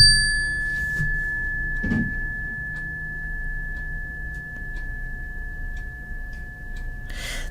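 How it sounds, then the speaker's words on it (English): A chime is struck once and left to ring, its pure tone sustaining steadily and fading slowly for several seconds in a quiet room, with a couple of soft knocks early on. "If you're going to ring a chime, let it resonate."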